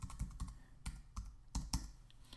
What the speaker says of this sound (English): So enter a password here that you know you're going to remember